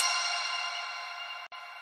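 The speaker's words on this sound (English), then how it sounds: "when you mix that with the bell, you get this kind of glass sound." A synthesized organ patch layered with a bell gives a bright, glassy sustained tone that opens with a slight attack and then fades gently over about two seconds, heard alone apart from one brief cut.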